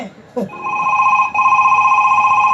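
A telephone ringtone rings loud and close, a steady electronic trill that starts after a brief knock, pauses for a moment, then resumes and continues.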